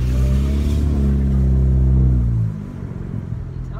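A 2018 Honda Civic Hatchback Sport revs hard and accelerates, a loud, steady engine roar with a rising pitch that drops off sharply after about two and a half seconds into a lower, rougher rumble. Voices can be heard faintly in the background.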